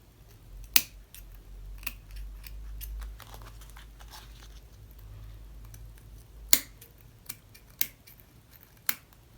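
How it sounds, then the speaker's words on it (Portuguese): Scissors trim excess fabric, lace and bias binding while sewing a clear zippered pouch, giving a handful of crisp, isolated snips spread irregularly over a quiet background. "Vou cortar o excesso."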